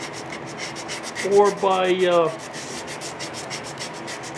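Rough rubbing strokes of sanding on a wood-turning piece swell briefly in the middle, with a faint voice at the start and steady scratchy noise throughout.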